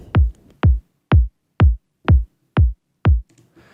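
Seven punchy kick drum hits through an analog preamp plugin at a steady tempo, each a deep thump with a sharp click on top, separated by short silences.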